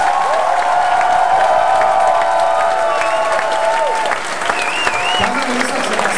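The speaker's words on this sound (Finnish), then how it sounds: "antakaa heille kaikille isot aplodit." Sustained audience applause fills a pageant show hall, loud and steady for several seconds with a few cheers and tonal voices drifting through the crowd noise.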